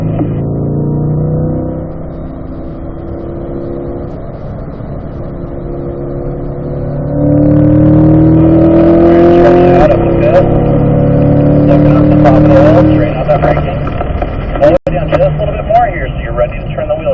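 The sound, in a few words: race car engine accelerating and shifting gears on track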